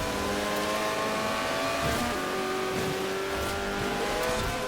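A rear-wheel-drive car with its stock engine, reduced weight and added aero drives in Forza Horizon, its engine droning steadily and loudly throughout, with brief tyre squeals as it corners.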